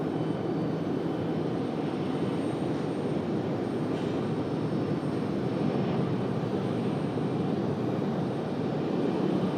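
American Airlines jet landing on runway 23 right at Raleigh-Durham International Airport, a steady broadband roar of engine noise holding at a moderate distance throughout, with no voices.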